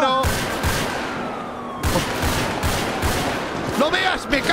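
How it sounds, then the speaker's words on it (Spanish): Rapid gunfire during a video game heist on a Fleeca bank, loud bursts of automatic shots and sharp cracks overlapping continuously at close range. "De hecho, ahora enseguida voy a empezar a disparar."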